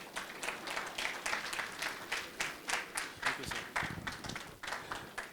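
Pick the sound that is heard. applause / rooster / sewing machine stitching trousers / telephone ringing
applause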